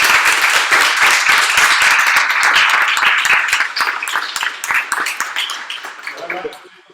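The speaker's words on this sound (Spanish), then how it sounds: "un aplauso otra vez para Humberto" An audience at a cultural-management talk on music at the university's Pacific campus applauds Humberto, dense clapping that holds loud and steady for several seconds before thinning out and fading at the end.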